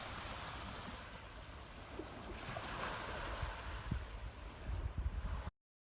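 Ocean waves wash onto the beach at Brighton, a steady broad rushing surge with wind buffeting the microphone, swelling slightly toward the end before cutting off abruptly, with no voices.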